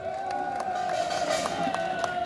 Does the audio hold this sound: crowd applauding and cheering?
yes